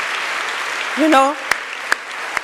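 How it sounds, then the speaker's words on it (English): An audience at a closing ceremony applauds in a continuous, even wash of clapping, while a voice briefly speaks over it partway through. "I will ask for a big applause."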